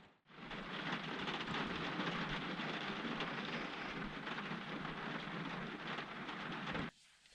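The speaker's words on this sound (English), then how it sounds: "if this rain doesn't keep me awake and the constant traffic" Heavy rain pours at night on and around a car parked at a truck stop, a loud, dense, unbroken roar that starts abruptly and stops short near the end, with no voices.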